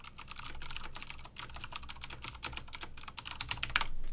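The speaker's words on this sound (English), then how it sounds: "today we're rocking the DOS keyboard Macintosh edition, full of lint and dust" Typing on a dusty, lint-filled DOS-style Macintosh keyboard: rapid, continuous clacking keystrokes close to the mic, steady and fairly loud throughout with no voices.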